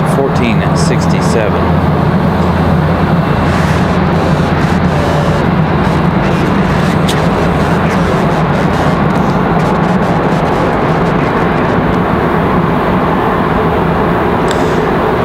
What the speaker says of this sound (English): Noisy Southwest. That's Southwest coming at us from Bewey